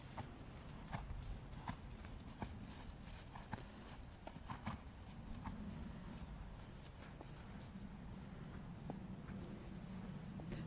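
A horse's hooves clip-clop in a steady trotting rhythm, fairly faint over a constant background rumble.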